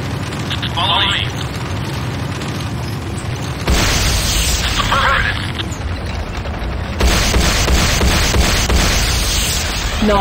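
Tiberium Refinery exploding in Command & Conquer Renegade, heard as loud, dense battle noise with heavy booming bursts and a sharp surge partway through, then a second jump in intensity, mixed with constant game sounds and voice chatter.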